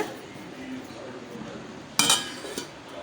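A lid set over a bowl of resting wheat-flour dough gives one sharp, close clink, then a fainter tap a moment later, against a quiet kitchen background.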